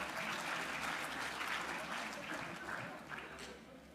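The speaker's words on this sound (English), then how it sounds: "please another round of applause to our participants for today" Applause from a quiz audience honouring the participants at a financial inclusion event, a steady wash of many hands clapping at moderate distance that gradually thins toward the end, with faint voices underneath.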